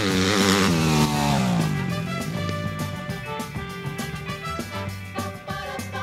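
A 125cc two-stroke off-road motorbike revs hard and shifts through gears on a demanding dirt course, its engine note rising and falling continuously and close by.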